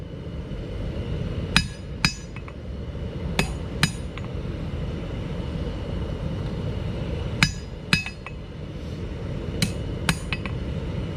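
A hammer strikes a metal leaf to flatten it and take out earlier hammer marks. The blows are sharp and ringing, falling in spaced pairs over a steady background hum.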